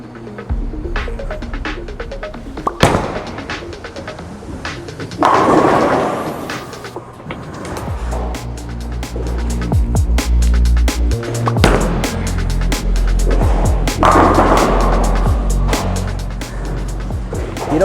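A Storm Level bowling ball thrown down the lane, a loud deep rolling rumble with thuds and clatter building over many seconds, heard close.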